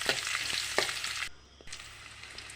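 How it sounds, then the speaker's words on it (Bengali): Garlic and onions frying with mustard seeds in a pan, a dense close sizzle with a few sharp stirring clicks, briefly dropping quieter midway before the hiss returns; no voices. "পেঁয়াজটাকেও ভালো করে ভেজে নিতে হবে।"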